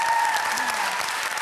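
A comedy-show audience applauds, a dense continuous clatter of clapping hands throughout, with a voice faintly under it.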